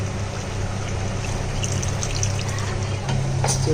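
Water is poured steadily into a pot of South Indian sambar cooking with toor dal, a continuous close splashing and gurgling pour lasting several seconds without speech.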